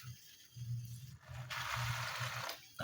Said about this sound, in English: let's first pour water on our winged termites so that they can soften somehow